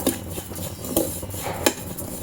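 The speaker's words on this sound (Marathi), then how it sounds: "आता आपण थोडंसं खोबरं याबरोबर परतवूया" A utensil scrapes a pan while stirring and roasting semolina with coconut, with three distinct metallic knocks over a soft, steady scraping background.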